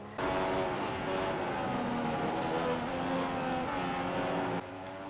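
Engines of Formula One cars in F1 2015 at the British Grand Prix, a continuous close high-pitched drone that holds steady, then drops off sharply near the end, with no one speaking.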